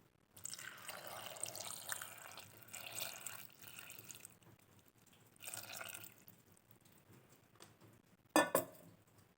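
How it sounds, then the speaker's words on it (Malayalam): Water is poured into a pressure cooker over chopped vegetables for sambar, quiet splashing pours in a few soft bursts, followed by a brief sharp clink of metal near the end. "കുറച്ച് വെള്ളം ഒഴിച്ചു കൊടുത്തിട്ടുണ്ട്."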